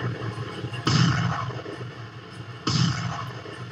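Shelling and gunfire across the border in the Poonch sector of Jammu at night: two heavy booming blasts a couple of seconds apart, each followed by a rumbling tail, heard from a distance over a constant low background.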